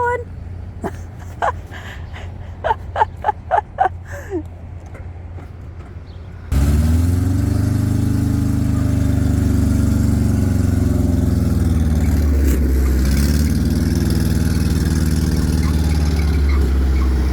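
A 1961 Citroen DS station wagon engine starts up and runs steadily, a loud continuous mid-pitched drone with a slight rev partway through, after a few sharp clicks and knocks.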